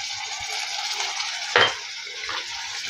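Tomatoes hit a hot pan already holding ginger-garlic paste, cooking cauliflower sabzi: a steady broad frying hiss with a sharp louder sizzle burst near the middle, then settling back to continuous crackle, no talk.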